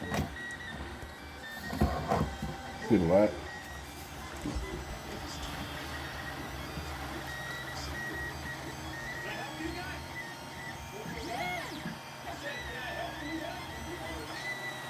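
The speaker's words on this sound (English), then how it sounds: "It's a printer." A 3D printer runs at low level with faint whirring motor movements and small mechanical clicks, while a person talks quietly close by.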